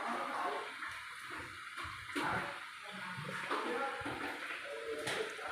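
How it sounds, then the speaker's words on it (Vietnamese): An LG inverter washing machine draining, with water gurgling and rushing through the drain at a low, steady level, broken by faint knocks and shifting splashes, no talk. "Rồi để bây giờ trong thời gian mình chờ cho nó xả nước xong rồi coi"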